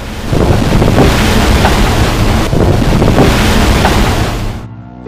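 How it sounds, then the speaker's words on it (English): Strong wind of about 35 knots roars across a sailboat at sea in heavy weather, a loud, steady buffeting of gusts and rushing water that fills the whole stretch and drops away abruptly at the end; no one speaks. "It's blowing around 35 knots."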